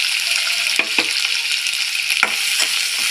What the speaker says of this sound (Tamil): இப்போ இதுலேயே நாம் அறுத்து வச்சுருக்கிற வெங்காயத்தை சேர்த்துக்கலாம்.